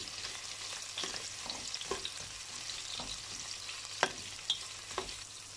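Onion frying in a pan while cooking salmon head sinigang, a soft, steady sizzle with occasional light stirring clinks and scrapes, fairly faint and without talk.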